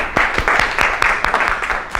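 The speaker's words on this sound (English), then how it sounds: "Clap your hands for them." Students in a classroom clap their hands together, a loud, close round of quick rhythmic claps in clustered bursts that carries on throughout, with a little voice activity underneath.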